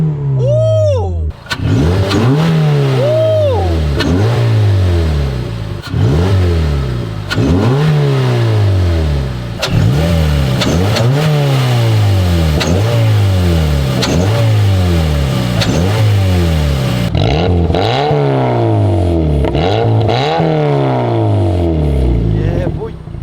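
A Mazda MX-5 engine fitted with a performance air filter revs loudly and repeatedly, rising and falling in pitch with each throttle blip, close up and continuous, with a deep intake growl.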